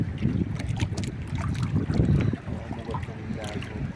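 Gusting wind buffets the microphone while water sloshes and paddle strokes splash around a small fishing boat paddled against the wind off Romblon; no one speaks.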